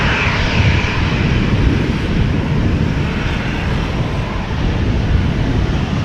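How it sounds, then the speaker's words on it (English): A TAROM Boeing 737-700 airliner at Amsterdam Schiphol Airport, a loud, steady broadband jet roar that holds throughout, heard close with some wind buffeting on the microphone. "TAROM 737-700 with a KLM Embraer 175 behind it"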